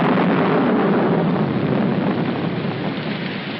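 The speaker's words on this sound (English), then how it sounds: "Put this top up. It's going to rain." Heavy rain pours down steadily with a low, continuous rumble of thunder beneath it, loud and close, with no voices over the downpour.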